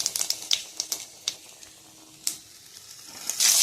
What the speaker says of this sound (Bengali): যে আলুটা একটু নাড়াচাড়া দিয়ে নেব